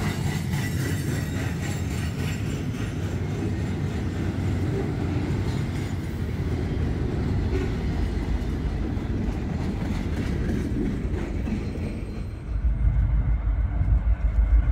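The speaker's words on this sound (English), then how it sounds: "This particular 912 was a continuously welded rail train, 45 long uncut sticks of rail" A long freight train carrying continuously welded rail rumbles steadily past nearby, wheels clattering and grinding over the rails, until the noise thins and a low wind buffets in at the end.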